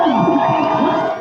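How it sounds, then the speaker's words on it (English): A crowd cheers and whoops in a loud, continuous roar during an assault on a female reporter, with excited voices rising and falling throughout. "The crowd cheered as they assaulted a female reporter."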